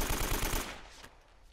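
Rapid burst of AK rifle fire in the Uncharted video game, a loud run of quick shots over about half a second that cuts off and leaves a fading echo.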